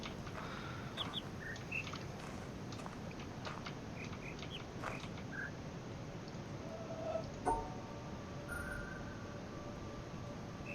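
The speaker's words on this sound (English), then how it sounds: "It's the bird chirp sounds that are solving these puzzles." Bird chirps in the puzzle video game The Witness: faint, brief tweets scattered over a constant noisy outdoor ambience, with light footstep-like rustles.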